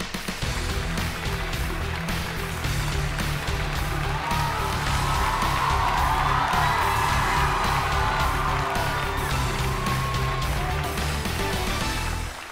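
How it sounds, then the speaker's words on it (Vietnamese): A studio audience at a Vietnamese comedy show applauds and cheers for returning guests, with dense, steady clapping and whoops sustained loudly throughout. "chúng ta cùng dành một tràng vỗ tay thật lớn để đón chào các khách mời một lần nữa"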